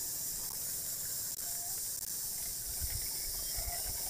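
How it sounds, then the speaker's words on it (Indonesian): Newly planted tanatti seedlings are watered with a steady, faint spray hiss that runs continuously throughout, with a few soft knocks underneath and no talk. "Nah, setelah tertanam, ini langsung disiram."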